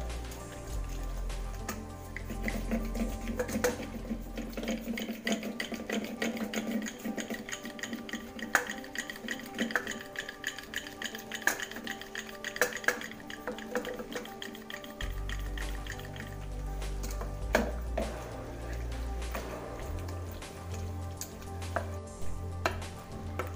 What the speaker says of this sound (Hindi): ये हमें अच्छे से मथ दिया है हमने।